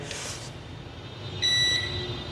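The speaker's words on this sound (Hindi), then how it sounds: "तो बजर रेंज में है, तो एक बार हम कूल टेस्टिंग भी कर लेते हैं।" Multimeter buzzer on continuity range while testing a Redmi Note 6 Pro charging circuit, a thin steady beep for about a second, then a short blip, over faint background hum.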